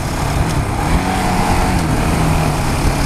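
A 2015 KTM Duke 690 motorcycle engine rumbles steadily at low revs, around 4,000 rpm, a continuous deep throb close by with no voices.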